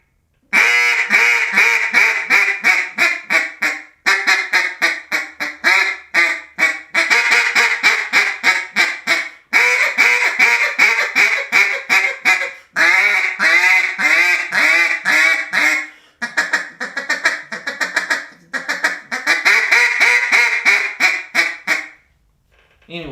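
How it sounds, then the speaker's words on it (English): Hand-blown duck call producing long runs of loud, raspy quacks in rapid rhythmic bursts, with short pauses between series, close to the listener and with no talking. "allow you to have more range on the duck call"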